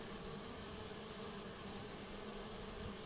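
Honeybees swarm around a hive entrance during an apparent robbing attack, producing a dense, continuous buzzing drone that stays loud and even throughout, close and uninterrupted with no voices.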